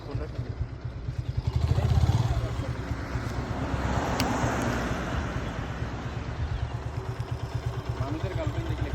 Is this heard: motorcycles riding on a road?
yes